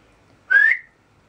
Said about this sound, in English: I can whistle I promise this is a terrible example.